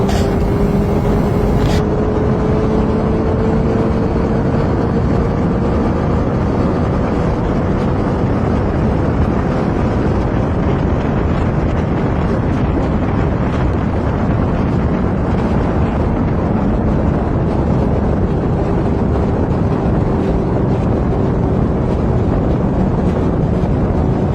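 A Suzuki motorcycle at speed, a loud continuous engine drone with a slowly rising then settling pitch, heavy wind rush over the microphone throughout.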